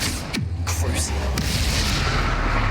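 A Bombarda blasting spell bursts in a Hogwarts Legacy battle, a deep booming explosion that rumbles on loudly with a brief sweeping whoosh at its start.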